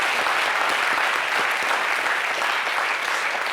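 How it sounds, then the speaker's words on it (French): Studio audience of a television entertainment show applauding a returning guest, a dense continuous wash of clapping at even loudness throughout, with no voices over it. "Kaz Bloom, on applaudit son retour, s'il vous plaît."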